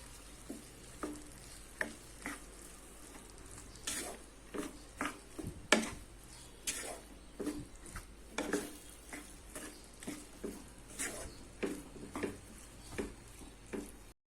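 A spoon stirs garlic tomato rice in a hot pan, giving faint, intermittent scraping strokes and clinks in an uneven rhythm over a soft sizzle, with no talking.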